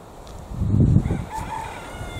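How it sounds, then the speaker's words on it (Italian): A rooster crows once on a farm, a single rising call of moderate loudness heard from a short distance against faint outdoor background noise. "Senti il gallo, mi ha risposto."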